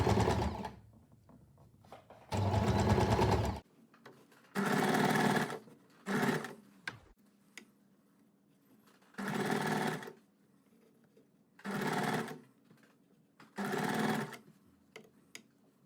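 Sewing machine stitching old t-shirt strips for a handmade rug, running in short bursts of a second or so separated by quiet pauses, close and moderately loud with no talk.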